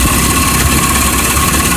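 Engine of an old Suzuki Carry pickup truck running at idle, heard close up with the hood open, a steady low rumbling drone with constant vibration and no talking.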